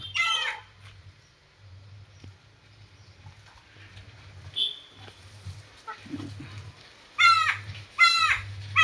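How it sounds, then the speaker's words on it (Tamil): Chicken calls ring out in bursts, a short cluck early and two louder harsh crowing-like squawks near the end, over a steady low hum. "இது வந்து குஷ்பு கோழி"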